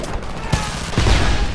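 Heavy gunfire in the video game Homefront, two loud booming shots about half a second apart, the second followed by a rolling roar of fire and debris.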